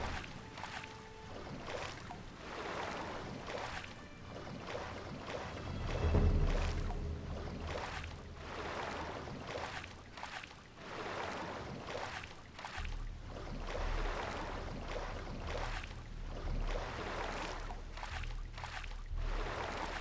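A character swims through water in the video game Gothic 2, with rhythmic splashing strokes repeating steadily at moderate volume and no talk.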